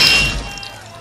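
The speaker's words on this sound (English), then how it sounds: "Moses smashed the golden calf and beat it into powder." A golden calf statue is smashed in an animated biblical scene: one loud, close crash that breaks apart at once and fades over about a second, with no voices.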